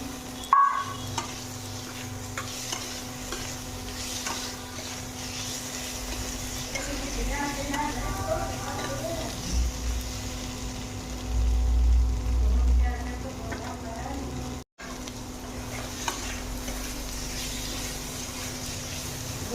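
Potatoes fry in a pan with turmeric and spices while being stirred, giving a continuous close sizzle with scraping and stirring noises that grow busier midway.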